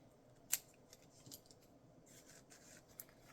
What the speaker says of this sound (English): Gonna cut off some of that extra.